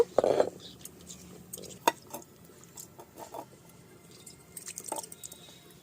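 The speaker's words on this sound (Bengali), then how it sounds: "শিলটা একটু মশলা লেগে আছে এটা ধুয়ে নেব" Water is poured over a stone grinding slab to rinse off leftover spice paste, giving faint, scattered drips, splashes and wet squishes with quiet gaps between them.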